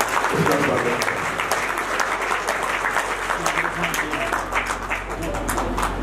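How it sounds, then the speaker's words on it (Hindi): Steady, loud applause from an audience at a Shrimad Bhagwat Katha religious discourse, sustained clapping filling the whole span with a dense crowd texture. "बहुत जोर से तालियां बजाकर उसका स्वागत"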